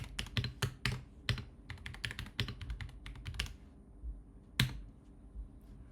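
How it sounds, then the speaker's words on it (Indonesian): Someone types on a computer keyboard during a Linux log-file lab: quick clusters of crisp key clicks in uneven bursts, a short pause, then one final isolated keystroke, all quiet and close with no talking. "Kita bisa tulis, kita bisa ketik."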